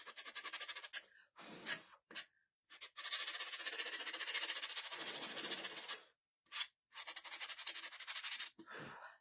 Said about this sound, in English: sand my edge here that I forgot about